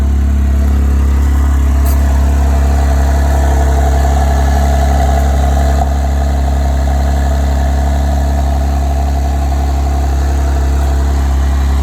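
A powerful car engine idles loudly and close by, a deep steady burble with a faint tick near the start, no one speaking.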